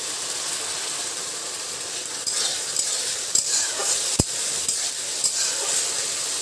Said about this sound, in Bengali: এবার মশলাটাকে ভাজার জন্য একটু ওয়েট করছি